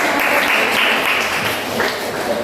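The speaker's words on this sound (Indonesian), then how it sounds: "Tepuk tangan" Loud, dense clapping from a classroom group during a teaching practice session, a steady wash of many hands that eases slightly toward the end.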